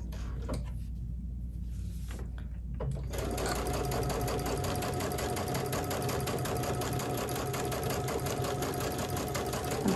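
A sewing machine stitches binding onto a quilt, running in a steady, fast mechanical whir after a few brief starts and stops, loud and close with no talking.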